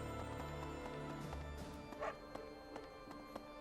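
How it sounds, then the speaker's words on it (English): Dog in the Fire Emblem Three Houses game giving a few short barks and yips over a soft background music bed, moderately close but not loud. "There's a dog there."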